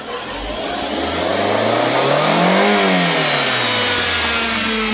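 A 2005 Nissan X-Trail engine revs up loud and close to 4,000–5,000 RPM, its pitch climbing to a peak, then winds back down to a lower steady drone.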